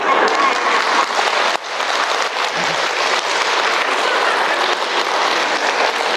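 An audience at a special lecture for a Catholic mission sisters' support group breaks into loud, dense applause that holds steady for several seconds, close and full, with one brief dip partway through.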